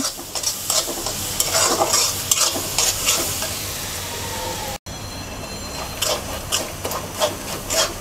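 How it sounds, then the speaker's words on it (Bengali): Crushed garlic sizzles in hot oil in a pan as it is fried light brown, with a dense, continuous crackle and repeated scraping stir sounds, broken by a brief dropout midway. "রসুনটাকে হালকা ব্রাউন কালার করে ভেজে নেব"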